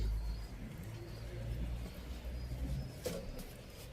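Pigeons coo low and soft in a loft holding flocks of Turkish play pigeons, a faint murmur of calls under a quiet roomy background with a brief rustle or flutter.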